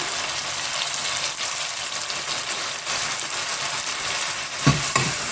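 Onion, tomato, garlic, ginger and curry leaves sizzle steadily in a hot pan, a constant crackling hiss with a couple of clunks of a utensil near the end.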